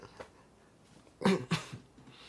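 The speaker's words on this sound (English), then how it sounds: "Next to me coughing." A person nearby lets out a couple of sharp coughs in quick succession against a quiet background.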